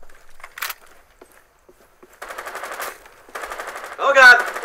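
Gunfire in the video game Rainbow Six: Siege, short automatic bursts and single shots heard close, separated by gaps, with a shout near the end.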